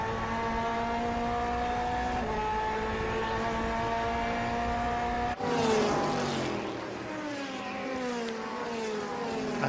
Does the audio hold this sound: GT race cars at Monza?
yes